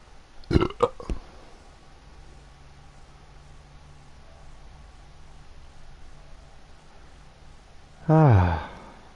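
One loud, deep burp sounds close to the microphone near the end, after a few short sharp noises and a long stretch of quiet room hiss.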